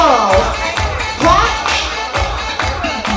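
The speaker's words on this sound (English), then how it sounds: "Clap." Crowd clapping along in rhythm at The Groovy Ball dance battle, regular hand claps roughly every half second over loud music and crowd noise.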